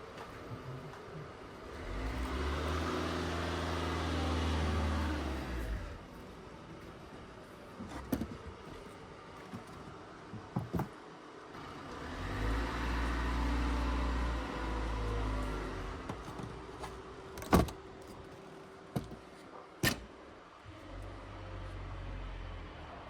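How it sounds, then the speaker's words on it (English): A car sits idling with its driver slipping and burning the clutch, producing two long swelling low engine drones separated by a lull, with a few sharp clunks and knocks near and fairly loud, and no talking. "This poor girl is burning her clutch."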